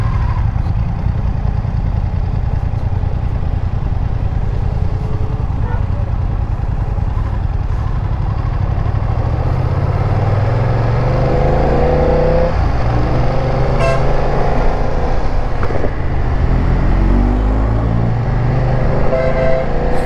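A 2020 BMW F900 XR motorcycle rides out on a test drive, its engine droning loudly and steadily under heavy wind rush, with rising revs and shifting pitch as it accelerates.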